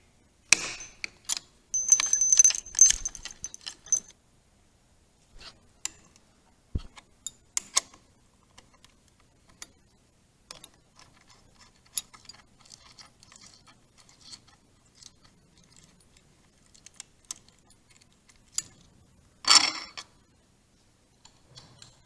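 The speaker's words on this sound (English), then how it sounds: "I'm gonna go ahead and take the mirrors off. They're just a 1/2 inch wrench." A half-inch wrench loosens motorcycle mirrors on a 2014-or-newer bagger, bursts of metallic clicking and ratcheting with quiet gaps, close, without talking.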